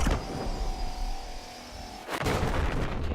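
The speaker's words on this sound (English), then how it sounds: "I saw the explosion" A loud explosion in the video game Subnautica bursts out suddenly after a sustained whine and electronic tones, its broad roar and rumble lingering to the end with no talking.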